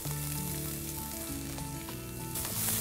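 Curry leaves and finely chopped onions sauté in a hot pan for rava upma, giving a steady, close, dense sizzle that runs unbroken for the whole stretch with no voices.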